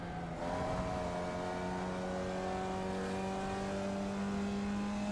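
A Formula Vee race car engine drones steadily in the iRacing simulator at Okayama, holding a sustained nasal tone with a small pitch step early on as the throttle is feathered. The engine is close and continuous, with no voices.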